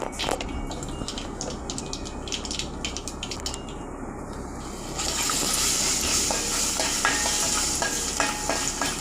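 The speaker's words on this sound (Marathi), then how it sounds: "आणि मसाला आणि हळद घालून मी फोडणी देणार आहे" Asafoetida, spice powder and turmeric hit hot oil over curry leaves for a mango raita tempering, a steady close sizzle with stirring scrapes that swells louder and fuller halfway through.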